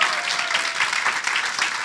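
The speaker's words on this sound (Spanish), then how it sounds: "Denle un aplauso al Señor." Church congregation clapping loudly together during a Spanish-language sermon, dense sustained applause filling the space from start to finish.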